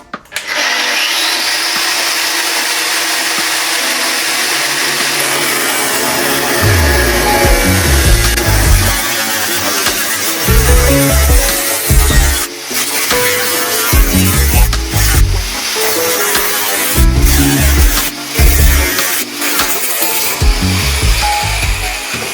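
A power tool cuts rusty body panels off a scrapyard VW T4 double cab with a loud, continuous high-pitched whine, and rough, shuddering bursts recur through the cut as the blade bites into the metal.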